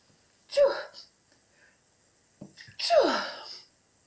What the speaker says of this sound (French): J'ai envie d'éternuer.